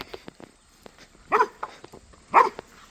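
A dog barks in two loud, sharp bursts on a farm, each a short cluster of yelps about a second apart, with soft footsteps and rustling in between.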